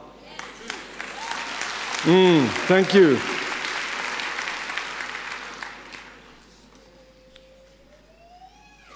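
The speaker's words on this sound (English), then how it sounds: "You should have applauded about 3 times by now" An audience applauds in a broad wash of clapping that swells and then fades, with a speaker's voice over it and a siren-like rising tone near the end.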